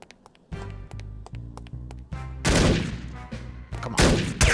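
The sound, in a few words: AK rifle gunfire in No One Lives Forever video game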